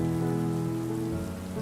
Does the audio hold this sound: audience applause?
no